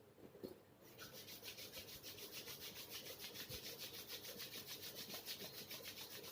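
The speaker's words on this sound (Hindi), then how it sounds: "धीरे से दोनों हाथों को उठाएं और दोनों हथेलियां आपस में थोड़ी रगड़ ले," Both palms rubbed together briskly to warm them during a breathing exercise, making a quiet, close, rhythmic swishing friction with steady back-and-forth strokes and no talking.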